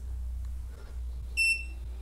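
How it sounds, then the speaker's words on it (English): A Geeetech Mizar S 3D printer gives a single short electronic beep at power-on, clear and near, over a steady low hum of the machine. "All right, so it beeped, the screen lit up"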